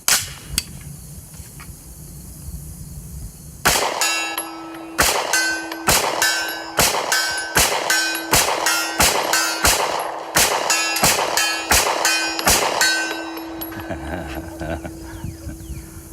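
A Ruger LC Carbine in .45 ACP firing cheap aluminum-cased ammo at 50 yards on an outdoor range: about a dozen evenly spaced, loud shots, each followed by the bright ring of steel plates being hit.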